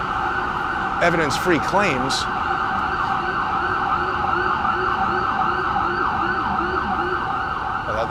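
An ambulance siren wails steadily on a New York City street, its rising and falling tone carrying through the whole stretch while someone talks over it and traffic hums underneath.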